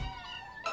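Kittens in a cartoon give a short, thin meow that rises at the end, faint and alone.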